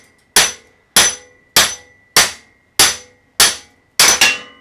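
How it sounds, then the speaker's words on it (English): Seven sharp metallic hammer blows strike in a steady rhythm while driving out a Porsche 928 upper control arm bush, the last two in quick succession, loud and close. "and just hammering it out, the last little bit."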